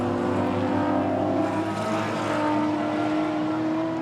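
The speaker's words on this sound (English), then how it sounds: "the pace of that car is pretty good over the long run, and listen to how good it sounds" An E Production race car engine at the SCCA Runoffs, a loud, steady high-revving tone with sustained harmonics as the car passes on track, with no talking.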